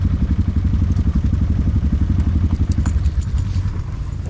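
A Honda motorcycle engine runs close by with a steady, loud, throbbing mechanical rumble and light clatter, holding an even pace throughout.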